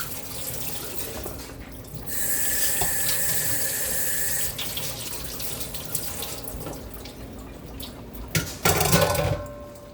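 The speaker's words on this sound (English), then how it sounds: "Then I'm gonna wash off my asparagus. Just rinse it out." Kitchen sink tap running as fresh asparagus is rinsed, a steady hiss of water for a couple of seconds, then splashing and small knocks in the sink, with a brief louder gush near the end.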